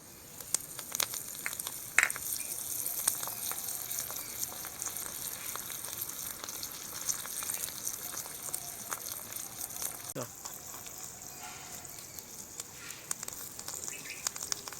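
Curry leaves and mustard seeds fry in hot oil with a fine, hissing sizzle and scattered small pops, fairly soft and steady throughout, and a voice speaks faintly over it.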